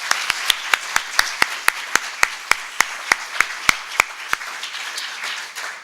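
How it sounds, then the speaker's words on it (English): An award-ceremony audience gives a round of applause, a bed of crowd clapping punctuated by sharp, regular loud claps from one nearby person, fairly close and sustained. "We need to give that a round of applause in itself"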